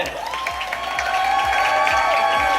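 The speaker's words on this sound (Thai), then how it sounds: "ขอเสียงปรบมือให้กับงานวันนี้" An audience applauds at a book launch event in Thailand, steady dense clapping that builds slightly, with music playing underneath.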